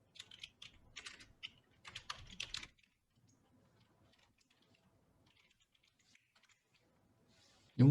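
Someone types on a computer keyboard during a machine learning regression lecture. Quick bursts of keystrokes clatter for a few seconds, then the room falls nearly silent.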